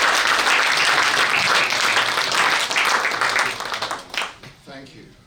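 Audience applause welcoming a speaker at a Melbourne book launch, a full, dense burst of clapping from a room of people that fades out at the end, with a voice briefly over the tail.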